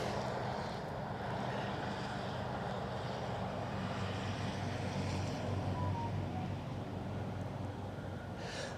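A fixed-wing airplane taking off at Newcastle International Airport, heard as a steady, continuous low engine roar with broadband rumble and wind-like hiss, sustained at a moderate distance throughout.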